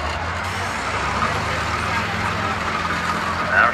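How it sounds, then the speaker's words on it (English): A school bus in a demolition derby at Riverhead Raceway rumbles with a low, continuous engine drone under a broad roar of crowd and track noise, ending in a brief louder swell. "that motor is starting to make all sorts of internal noises"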